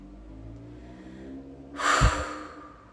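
Breath exhaled during a guided meditation session: one strong, breathy blow about midway through, loud and close against a quiet, low background hum, with no talking.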